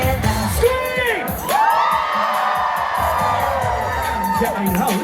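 Crowd screaming and cheering at a Disneyland After Dark 90's Nite stage performance, loud and continuous whoops and yells from many voices mixed with music and singing throughout.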